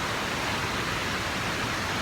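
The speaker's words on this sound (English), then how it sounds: "We found this little waterfall place." A small waterfall roars in a steady, dense rush of water that fills the whole clip, with no voices.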